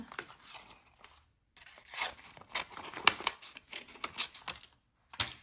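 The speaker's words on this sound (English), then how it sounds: "I'm just gonna take my scissors and cut these out." Scissors snip through stiff cardstock in short, irregular cuts, with crisp crunching and occasional pauses between strokes.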